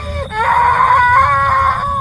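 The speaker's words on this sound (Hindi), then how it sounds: "उसी के साथ वो औरत डर से चीख उठी।" A woman screams in fear, a loud sustained shrill cry lasting almost two seconds after a brief lead-in, a horror-story sound effect set in a cremation ground.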